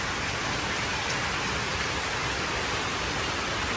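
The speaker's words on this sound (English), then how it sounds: "It's really raining." Heavy rain pours steadily outside a back porch in Tennessee, a dense unbroken hiss of drops on surfaces at constant loudness, with no voices.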